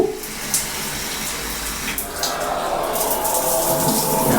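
Water runs hard and steady from a shower tap in a hotel bathroom, a loud continuous hiss that grows fuller partway through, with a few small knocks.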